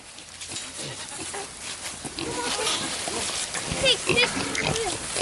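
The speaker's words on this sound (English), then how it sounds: "So we're moving the pigs into the pasture." Pigs are herded into a pasture, giving grunts and squeals close by amid rustling movement, with a person talking over the animals.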